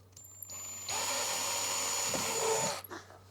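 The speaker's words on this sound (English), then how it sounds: "Yeah, I drill here a little" A power drill bores a small hole in a motorhome during a security lock installation, whirring in one short burst of about two seconds with a thin high whine, fairly close and with no talking.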